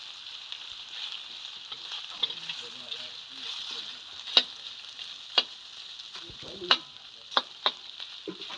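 Pork is stir-fried in a pan, giving a bright, continuous sizzle with scraping stirs and a few sharp clinks of the utensil, heard close.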